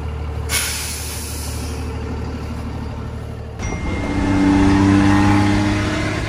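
A motorized scooter engine runs with a sharp hiss early on, then revs up into a louder, rougher drone with popping bursts, close by and building toward the end, with no speech.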